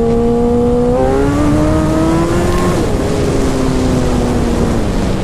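A 2014 Suzuki GSX-R1000 sport bike accelerating hard, its loud engine note climbing steadily in pitch through the gears, close and continuous with no talking.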